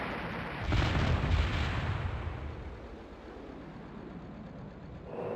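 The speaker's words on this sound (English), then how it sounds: "First volley is away, letting loose, firing the rockets" A rocket volley fired from a jet in the flight combat game Strike Fighters 2 makes a loud, dense roar, peaking within the first second, then fading into a sustained rumble with no talk.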